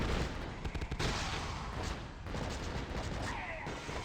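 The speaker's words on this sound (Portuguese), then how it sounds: "os tiros vêm de tudo quanto é canto" Gunfire from soldiers in the video game The Suffering: Ties That Bind, a chaotic stretch of rapid, booming shots and bursts coming from several directions, loud and continuous with hardly any gap.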